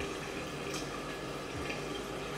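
Warm water splashes and runs at a sink while hands pat it onto a face, a quiet continuous trickle with a few soft wet taps, close by and faint.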